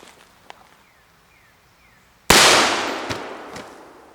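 A single sharp gunshot from an Uberti 1849 Pocket Model revolver cracks loudly and decays with a long outdoor echo at a shooting range, preceded by faint small clicks and followed by a couple of distant metallic pings.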